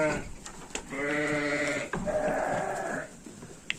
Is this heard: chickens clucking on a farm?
no